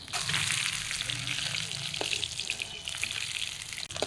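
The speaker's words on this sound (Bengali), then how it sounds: "মাছ ভাজার তেলে ফোড়ন দেবো" Bay leaf and cumin tempering sizzling in hot oil left from frying katla fish, a steady bright crackle close by with brief clinks of a utensil.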